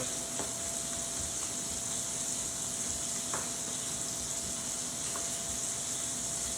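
Steady sizzling of chicken frying in a pan for creamy balsamic chicken, a constant bright hiss with a few faint pops and clicks, no voices.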